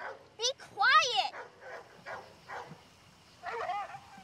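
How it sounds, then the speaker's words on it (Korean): A dog barks repeatedly in a tense film scene at a family house, sharp bursts near the start and again toward the end, with voices talking around it. "폴이 골프채를 시험해보겠다고 나가자마자 들려오는 럭키의 짖음이 예사롭지가 않습니다."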